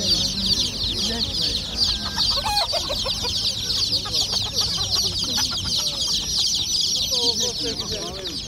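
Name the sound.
chickens and roosters clucking at poultry market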